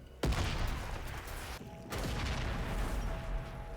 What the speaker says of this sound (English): I don't know what that secondary explosion was